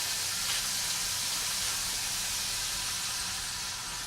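A 2018 RationX self-heating ration pack, Menu B, vents steam in a continuous, even hiss that holds steady from start to finish.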